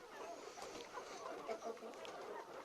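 Chickens newly delivered to a farm cluck and murmur together in a steady, busy chorus of overlapping calls, fairly close, with no clear single bird standing out and no talk.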